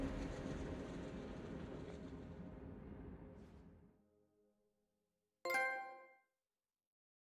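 A train in Final Fantasy VII Remake rumbles loudly and fades to silence, followed by a short bright chime-like clang, with no voices.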